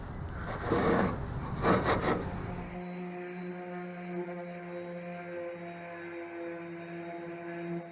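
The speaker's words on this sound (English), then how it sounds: "I'll just sand it a little bit better. Sand these edges." Edges of a wooden Christmas luminary sanded by hand, a few quick rasping rubs in the first seconds, then only a faint electrical hum.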